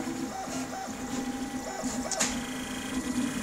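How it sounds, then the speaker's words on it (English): A Citadel Mendel 3D printer running at 120 mm/s, its stepper motors whining in repeated rising and falling tones over a steady mechanical hum, loud and close, with no talking. "the vibration from the printer is shaking all over the place"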